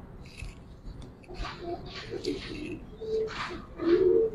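Giribaz pigeons in a loft give soft, repeated coos, building to a louder run of calls near the end, with faint rustling and no talking over them.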